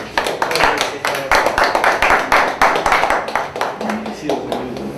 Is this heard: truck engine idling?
no